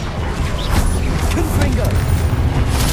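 An Expelliarmus disarming spell is cast in the Hogwarts Legacy video game amid dense, loud combat sounds: whooshing magic, clanks and thuds, with game voices mixed in.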